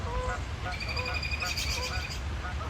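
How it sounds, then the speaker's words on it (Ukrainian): Canada geese honking overhead in a few repeated calls as they come in to land on a pond, fairly clear above a steady outdoor rumble, with people talking in the background. "Це канадські гуси, вони зараз будуть приземлятися"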